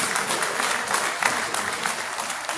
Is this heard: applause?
yes